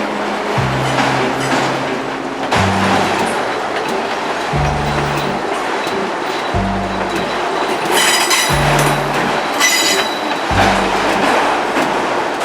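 A long freight train of autorack cars rumbles past close by, its wheels beating a steady, repeating clack over rail joints as car after car rolls through, with occasional brief squeals and a continuous heavy roar.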